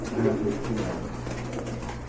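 Low, steady cooing from a large pigeon of a rare colour, sold with eggs on the way, continuing throughout at close range with faint background voices.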